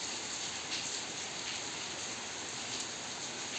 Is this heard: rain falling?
yes